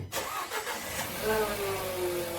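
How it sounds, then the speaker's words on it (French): A Nissan Qashqai J11 engine cranks briefly and catches, then settles into a steady idle with a rising whine, heard close and fairly quiet with no talking. "Démarre la voiture pour 2 à 5 minutes."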